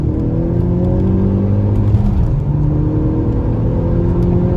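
A Ford Focus ST fitted with an MBRP exhaust accelerating at around 70 in top gear, a loud, steady, droning engine and exhaust note with rising tones, heard close from inside with no talk.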